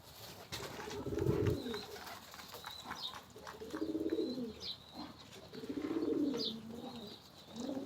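Pigeons at a loft give repeated low, rolling coos in three or four spaced phrases, close and clear, with faint chirps from other birds in the background.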